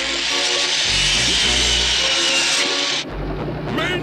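A power sander runs in a classic cartoon with a loud, continuous buzzing whine and grinding rasp that holds steady for about three seconds, then cuts off abruptly into lighter mechanical whirring.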